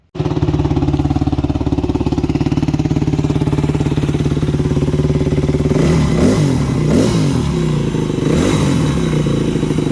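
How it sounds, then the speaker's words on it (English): A 2009 Yamaha WR250F dirt bike engine, freshly rebuilt with a new head gasket and piston rings, idles steadily close by after starting, with a few throttle blips toward the end; a voice is faintly present. "So as you can see there, the bike fires up and runs pretty well."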